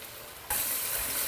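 Sofrito hits browning meat in a pan for an Italian slow-cooked meat sauce, and a low simmer jumps abruptly into a loud, bright sizzle that holds steady to the end.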